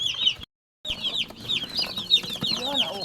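Small chicks (sisiw) peep and cluck in quick, high chirps, close and fairly busy, with a brief silent gap early on and soft voices in the background.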